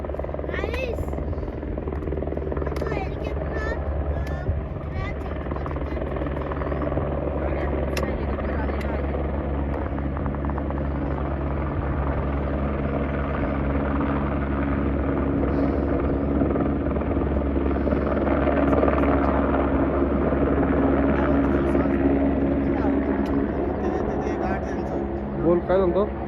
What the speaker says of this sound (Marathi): अरे तो बघ हेलिकॉप्टर आला बघितलं का.